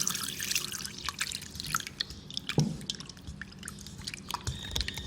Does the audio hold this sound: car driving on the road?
no